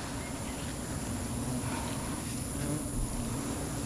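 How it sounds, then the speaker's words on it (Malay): Dense, steady buzzing of many bees at a nest beside a garden, a continuous droning swarm with no pauses and no voices. "Lebah ngisi balik"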